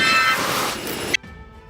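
A train approaching through falling snow, a loud broad rushing roar that builds and then cuts off abruptly near the end, leaving a faint low hum.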